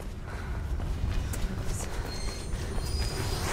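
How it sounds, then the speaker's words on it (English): An approaching train in the Mirror's Edge video game gives a loud, continuous rumbling roar with rattling, clanking and faint metallic squeals over it, close and steady throughout. "There's a train coming behind you."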